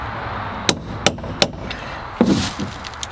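A hammer strikes a nail in wood three times at an even pace, sharp and close, followed by a scraping pry and a couple of softer knocks, with no talking.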